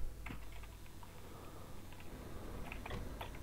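Computer keyboard typing during gameplay, a steady run of light clicky keystrokes in short irregular bursts, close and moderately quiet over a low background hum.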